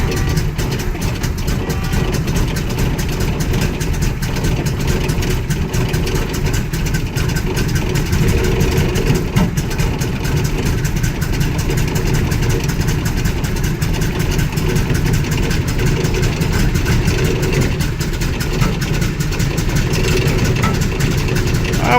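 A 455 V8 engine in a G-body Oldsmobile Cutlass runs close and loud with a rough, uneven idle and irregular pops from timing advanced too far, which sends backfires out through the intake.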